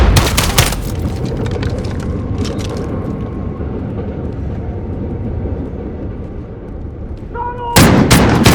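A grenade goes off in Call of Duty: Modern Warfare, a loud close blast at the start trailing into a long low rumble, with another sharp burst of gunfire-like noise at the end.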